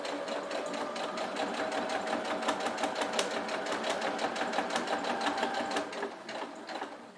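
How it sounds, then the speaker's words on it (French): A sewing machine stitches fabric for a bread basket, running steadily and close with a fast, even mechanical rhythm that slows and fades near the end. "Et je continue à coudre."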